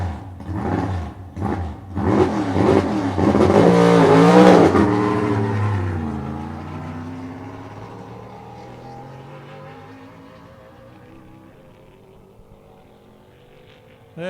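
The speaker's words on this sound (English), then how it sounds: "Ron Keselowski is up here again in his 63 Corvette." A 1963 Corvette race car on a timed run: engine revs climb through several gear changes, loud and close, then the roar fades steadily into the distance.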